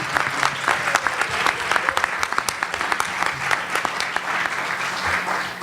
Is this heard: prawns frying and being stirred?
no